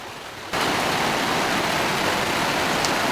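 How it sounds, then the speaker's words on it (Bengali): Heavy rain pouring outside, a dense, steady roar that swells in abruptly after a quieter moment and then holds loud and unbroken, with no voices. "বাইরে ধুম বৃষ্টি"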